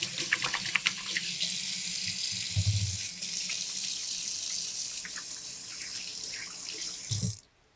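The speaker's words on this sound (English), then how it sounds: "I'm going to wash my hands." Tap water runs steadily into a kitchen sink while hands are washed, a close, continuous hiss with brief splashy thumps, then the flow cuts off abruptly at the end.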